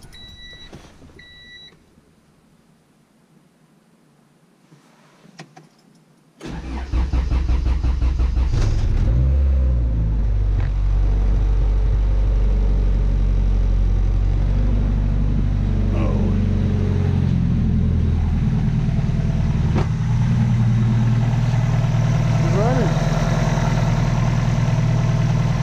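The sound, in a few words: car engine starting and idling, low on fuel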